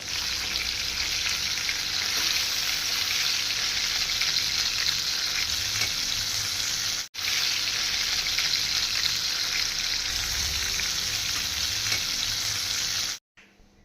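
Fish sizzles hard in a hot pan for a spicy fish curry, a loud, dense, continuous crackle that holds steady, breaks off abruptly once, resumes, then cuts out near the end.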